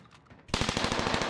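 Rapid automatic gunfire from a shooter in a prison building in the video game The Cycle bursts in suddenly after a quiet moment and continues as a dense, steady rattle of shots.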